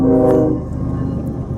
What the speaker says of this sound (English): the train is coming through